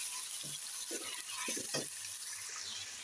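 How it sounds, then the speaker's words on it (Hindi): Chicken pieces frying with ginger and garlic in a pan for a white chicken korma, giving a steady close sizzle with a few soft stirring scrapes, no talking. "अब जस्ट 5 मिनट चिकन को हमने भूनना है अदरक और लहसुन के अंदर"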